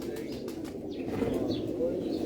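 A pure Ali wala breed pigeon coos in soft, low repeated calls, close by but fairly quiet, with faint background murmur around it.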